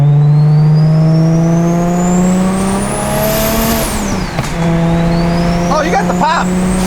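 A tuned single-turbo BMW N54 engine revs hard with a rising turbo whine that climbs, drops and climbs again, followed by a few crackling pops, loud and close, while people talk nearby.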